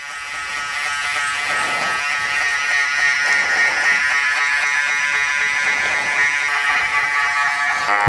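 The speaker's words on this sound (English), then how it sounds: "Onto the shavers." Electric hair shavers buzz steadily and close during a men's haircut, a loud continuous hum with slight rises and dips as the clippers move through the hair, with no talk.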